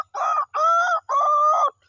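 A person's voice imitates a hen, three separate tonal calls in a row, close and loud with short pauses between them.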